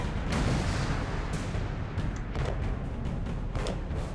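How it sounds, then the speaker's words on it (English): Cannon fire in the game Alice: Madness Returns, a dense rumbling barrage with repeated booming blasts roughly every second, loud and continuous with heavy low-end roar throughout. "Press the left mouse button to fire cannon."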